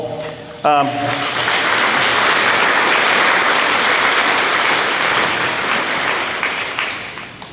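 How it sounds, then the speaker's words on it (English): Audience at a high school academic awards banquet breaks into loud, sustained applause after a brief voice, dense clapping filling the room evenly for several seconds before starting to fade. "he just deserves a great big round of applause"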